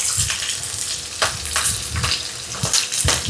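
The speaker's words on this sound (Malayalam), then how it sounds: "ഇതിലേക്ക് പച്ചമുളക് കൂടെ ചേർക്കാം. ഇനി കുറച്ച് പൊട്ടലൊക്കെ ഉണ്ടാവും." Green chillies splutter in hot oil with garlic in a pan for a green gram curry, giving a steady close sizzle broken by sharp pops and crackles.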